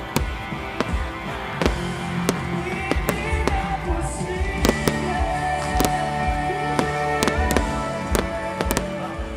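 Fireworks display at the Kawayan Festival 2026 in Abra, sharp loud bangs every second or so over a continuous crackle and distant crowd murmur.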